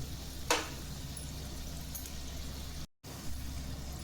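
Banana bajji fritters frying in oil on a low flame, a steady soft sizzle throughout with one brief clatter near the start and a momentary dropout later, faint and without talk.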